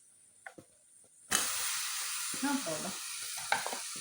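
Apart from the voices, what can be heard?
washed chicken added to hot oil, sizzling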